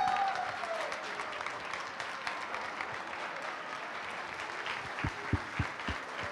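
An audience applauds at a dog show in Messina, steady continuous clapping from a crowd that lasts throughout. A few sharp louder claps stand out near the end.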